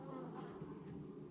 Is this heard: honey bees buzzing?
yes